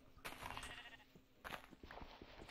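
Sheep in Minecraft bleat twice, short wavering calls close by at a low level, separated by a pause with faint clicks and game noises.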